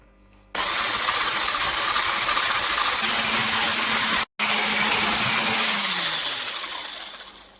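Electric mixer whipping 36% fat cream with powdered sugar, a loud steady whirring drone that runs continuously, cuts out for a split second, then resumes and gradually slows at the end.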